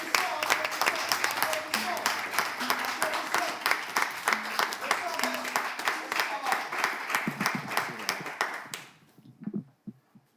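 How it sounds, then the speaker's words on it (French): Applause for a slam poetry contestant at an open-mic event, a dense patter of many clapping hands with whoops that runs for about nine seconds, then stops and leaves faint scattered sounds. "Est-ce qu'on peut, s'il vous plaît, applaudir pour notre candidat?"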